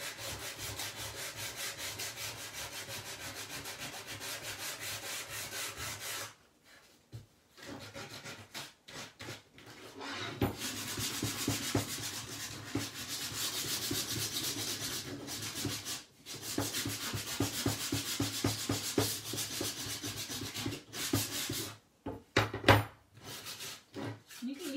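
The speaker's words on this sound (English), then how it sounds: "Sandpaper's kind of worn out. Trying to find some good areas on it." Worn sandpaper rubs back and forth on a wooden Chalk Couture sign in steady, rhythmic scratchy strokes up close. Brief pauses break the strokes, and the rubbing resumes with a few faster passes near the end.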